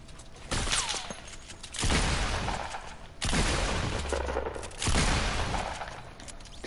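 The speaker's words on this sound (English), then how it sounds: "But I hear shooting." Gunfire in the Fortnite video game comes in three loud bursts of rapid shots, each lasting about a second or more and separated by short gaps.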